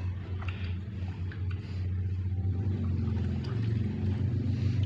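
A Toyota Camry 2.4-litre 2AZ engine idles after its timing chain was set, giving a steady low hum with a smooth, even rhythm and faint ticking on top. No one speaks.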